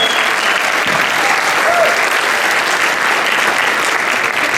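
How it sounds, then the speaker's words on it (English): Loud, dense applause from a crowd at a community talent show, a continuous wash of many hands clapping steadily throughout, with no gaps. "Give a round of applause."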